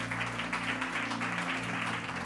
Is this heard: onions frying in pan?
no